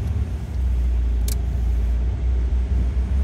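A car drives out of a parking garage at Rive Étoile, its engine a steady, close, low rumble that fills the whole stretch with only small swells and one brief high scrape partway through.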